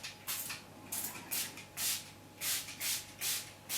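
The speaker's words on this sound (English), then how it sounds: "give that a light spray" Several short bursts of hissing spray from a mica colour mist in a quiet room, irregular at first, then evenly spaced puffs toward the end.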